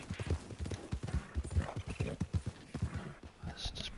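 Horse hooves clip-clop in Red Dead Online, a brisk, uneven run of close thuds and knocks with a faint whinny-like tone in the background.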